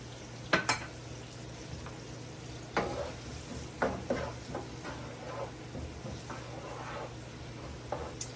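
Onions seasoned with salt and pepper sizzle steadily in a frying pan, with a constant low fry and occasional scraping stirs and clinks of a utensil against the pan.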